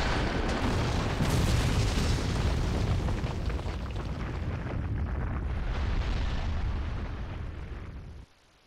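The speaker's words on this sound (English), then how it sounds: "Because my art is an explosion!" A big explosion in the Naruto Shippuden: Ultimate Ninja Storm 2 video game, a loud sustained roaring blast with rumbling debris that fills the whole stretch and then cuts off abruptly near the end.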